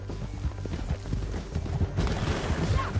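Horse hooves clip-clopping at a fast pace during a ride down a canyon in Red Dead Redemption 2, steady rhythmic hoofbeats close by, over a busy game soundscape with no talking.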